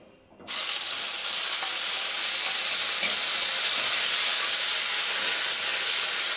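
Onions frying in white oil in a pan for potol dorma, with spices about to go in. A loud, steady sizzle starts abruptly and keeps going without a break, with no talking over it.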